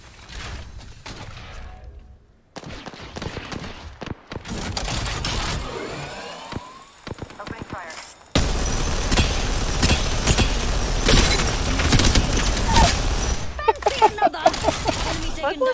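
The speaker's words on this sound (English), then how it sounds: "Opening fire. What was that? It's my machine gun." Rampart's Sheila, a mounted minigun in Apex Legends, firing a sustained, loud stream of rapid shots over game effects, with talk and other in-game sounds heard before the barrage.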